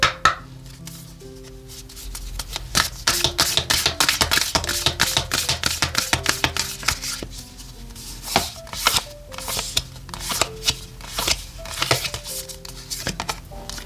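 Oracle cards are shuffled for a tarot reading in a rapid series of close, crisp riffling and slapping bursts, irregular in rhythm and continuing throughout without speech.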